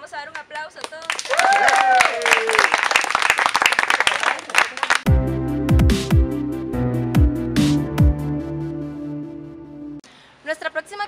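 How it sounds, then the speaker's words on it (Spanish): Group applause from participants after an icebreaker activity, a burst of clapping under excited voices for about four seconds, then giving way to loud music with a steady beat. "les vamos a dar un aplauso a todos."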